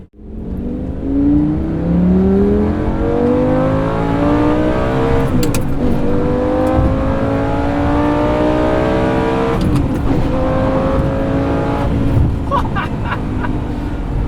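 A manual Lamborghini Gallardo's engine revs up through the gears and then drops back as each shift goes in. The loud, sustained engine note is heard close up from inside the car.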